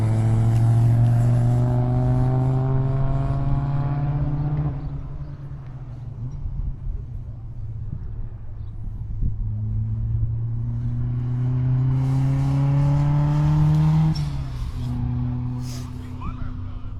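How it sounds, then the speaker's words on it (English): Race cars at Hallett track rev and shift through rising gear pulls, roaring loudly near, fading, then another car accelerating back up through the gears, with someone talking over the engine noise. "Sounds like we got more cars out on track now"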